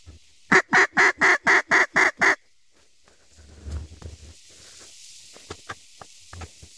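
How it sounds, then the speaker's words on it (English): Eight sharp, evenly spaced duck quacks in a quick burst, loud and close, followed by quieter scattered rustling and faint thumps, as ducks flush up from a small slough during a duck hunt. "Bunch of ducks up."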